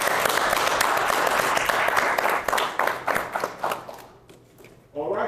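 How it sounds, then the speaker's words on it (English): An audience at a village board meeting applauds the Hempstead Police Department, a burst of clapping that thins into scattered individual claps and fades, before a voice begins speaking at the end. "Can we give them a round of applause?"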